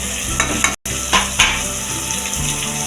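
Tomatoes sautéing with turmeric, garam masala and chilli powder in a pan for Tamil-style green peas tomato rice, a steady close sizzle and fry with occasional stirring scrapes, no talking.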